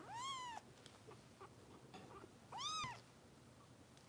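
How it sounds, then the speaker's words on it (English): A foster kitten gives two clear, high, rising-and-falling meows, separated by a short quiet pause. The room is otherwise quiet. "But whenever she's out, she's just meow meow."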